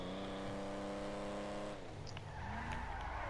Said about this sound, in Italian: il motore è al massimo, guarda quanto è piotta